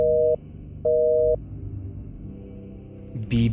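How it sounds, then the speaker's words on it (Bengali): A phone line disconnects with two loud, evenly spaced beeps, followed by a quiet line hiss and a short burst of noise at the end. "বিপ বিপ শব্দ করে কেটে গেল ফোনটা"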